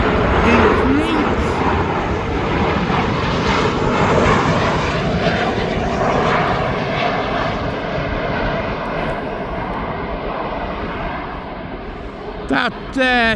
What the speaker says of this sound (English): It's now just coming into land, as this Tui will give way to the next Tui